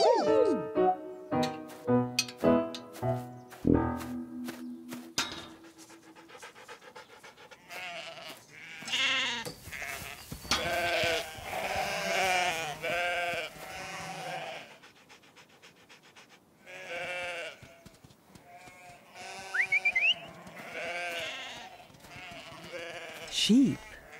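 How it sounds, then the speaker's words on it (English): Sheep bleat repeatedly in a children's animated show, the calls coming in short bursts over bright background music and other cartoon sounds. "Sheep."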